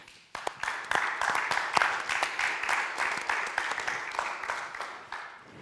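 Audience applause at a parliament youth event on peace and security, a steady roomful of clapping that rises quickly and holds at an even level with dense, overlapping claps throughout.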